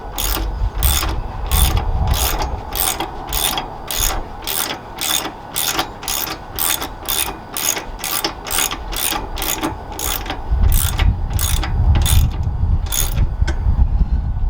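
Rapid ratchet wrench clicking while bolts are tightened on a pannier guard bracket on a 2021 Harley-Davidson Sport Glide motorcycle, a steady run of sharp close clicks throughout with a low rumbling background.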